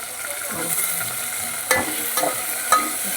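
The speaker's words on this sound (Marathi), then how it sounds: "पुन्हा ती टमाटी अशी हलवून घ्यायची" Tomatoes fry in a pan under a steady, close sizzle, while a spoon stirs them and gives a couple of distinct scraping knocks against the pan, with no one speaking.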